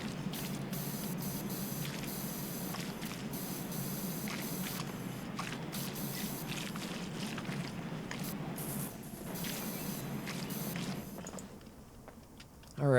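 Steady broadband hiss of a pressure washer jet spraying surfaces in PowerWash Simulator 2, cleaning a tea room, continuous and loud for most of the stretch before cutting out near the end.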